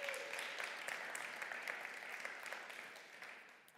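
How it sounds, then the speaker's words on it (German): A crowd claps steadily throughout at the final of a German science slam championship, a continuous, fairly even wash of applause with no voices over it. "Und nochmal Applaus"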